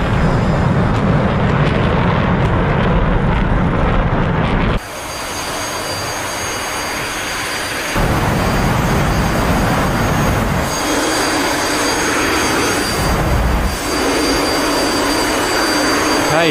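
A heavy jet in DCS World accelerates for takeoff, its loud, sustained engine roar dropping sharply in tone partway through and then shifting through changing rumbling layers.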